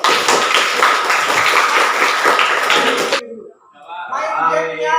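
Dense clapping from a classroom audience fills the first three seconds, then stops abruptly, followed by softer voices and chatter.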